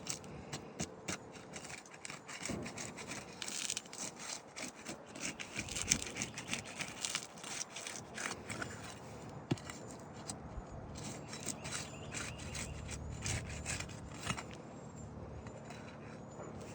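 Sealed asphalt roof shingles are pried apart on a cold day, giving faint, close, repeated crackles, scrapes and small ticking snaps throughout.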